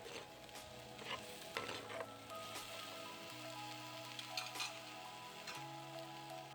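Meat simmers in coconut milk in a pot, giving a steady soft sizzle and bubbling with occasional scraping stirs, close and fairly quiet, with no talk.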